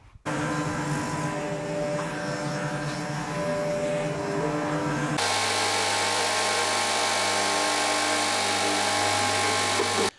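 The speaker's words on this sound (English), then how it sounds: "Always turn your dust extractor on before the sander" A power sander working bogwood guitar body blanks runs with a dust extractor as a steady, droning whine, then a louder, broader roar abruptly joins partway through and holds until both cut off.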